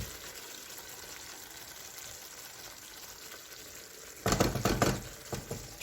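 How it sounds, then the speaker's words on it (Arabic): Pasta water bubbles in a pot on the stove as a steady, close hiss and churn, then a burst of louder clatter and splashing near the end, with no voices. "الماء نتاع المقرونه قاعد يغلي"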